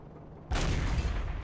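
A tank destroyer's main gun firing in World of Tanks: after a quiet low engine hum, a single sudden loud boom erupts and rolls on as a sustained rumbling blast.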